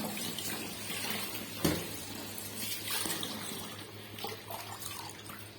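Whole leafy greens are washed in running tap water, with a steady splash and trickle and occasional louder sloshes and drips, close and fairly quiet.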